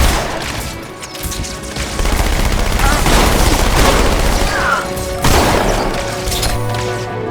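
SMG gunfire in Halo 2 Anniversary, loud sustained automatic bursts of rapid shots mixed with crashing impacts, continuous and dense across the whole stretch.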